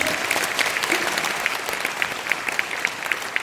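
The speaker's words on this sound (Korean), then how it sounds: "박수 한번 쳐주세요." Audience at a one-day seminar in the Seoul capital area claps steadily for the full few seconds, a dense, even patter of many hands with no voices on top.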